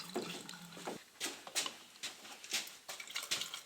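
Coolant being poured slowly into the cooling system of a VW Polo 6N2 1.0 MPI engine, a faint, close gurgling and splashing of liquid that comes in uneven bursts.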